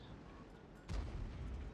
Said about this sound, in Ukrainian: Вони фугами по ньому стріляють, прикинь.